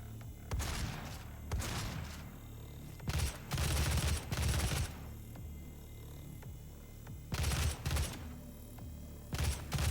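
Gunfire from the 2016 video game DOOM, with several loud bursts of rapid shots and heavy thumping blasts over a steady low game rumble, spaced irregularly through the scene.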